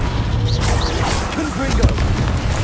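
Flipendo knockback spell cast in the Hogwarts Legacy video game, heard as a sharp whooshing burst with a thudding impact amid busy combat sounds and overlapping spell effects, at steady high loudness throughout.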